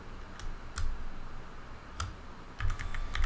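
Someone types a password on a computer keyboard in short, sparse bursts of crisp key clicks, close and fairly quiet over a faint room hiss, with no talking.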